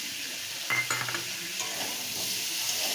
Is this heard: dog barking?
no